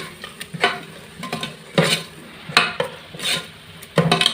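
Tomatoes and yogurt stirred together in a pan for mutton raw-banana biryani, rhythmic scraping strokes of a spoon against the pan every second or so over a light sizzle, close, no voices.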